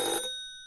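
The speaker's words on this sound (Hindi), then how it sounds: "तभी टेलीफोन की घंटी बजती है" A telephone bell gives one short ring that rings out briefly and then fades away quickly, heard alone.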